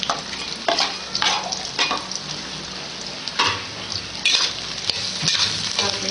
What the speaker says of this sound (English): Put a little bit of oil to take a spoon and then to fry it in.